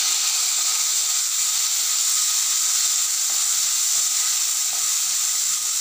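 Curry leaves and coconut pieces sizzle in hot oil with a steady, bright frying hiss that holds at an even level throughout.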